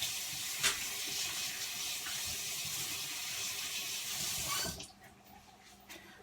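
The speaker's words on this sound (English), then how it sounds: "let me wash these gloves one more time" Running tap water splashes over gloved hands at a kitchen sink while soul food is being prepared, a steady broad rush that cuts off abruptly near the end, leaving quiet.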